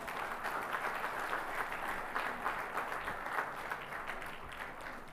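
Sustained applause from a large audience at a maritime conference in India, following a keynote speech; dense, steady clapping that holds evenly for several seconds without talk.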